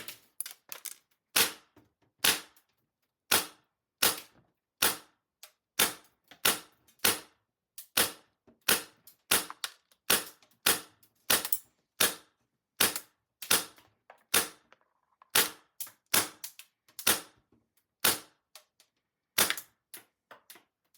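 An MTW9 airsoft rifle fires single shots through a chronograph at an uneven pace, about thirty sharp, close, loud cracks with short quiet gaps between them and no talk.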